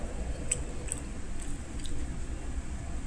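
Someone chews fried potato close to the microphone, with soft, wet, squishy bites and a few faint crunches over a low background hum.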